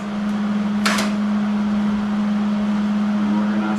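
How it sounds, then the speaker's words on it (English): A welder switched on for a homemade tractor ballast box project gives a steady, loud electrical hum that runs unbroken throughout, with a brief clank or click near the start. "Welder on."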